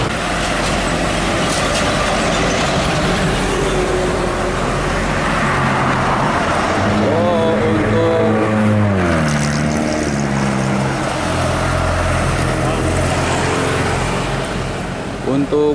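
An ANS Trafego bus heads out toward Jakarta on a Padang highway, a continuous loud engine and road rumble passing close by, with traffic noise and a voice talking over it.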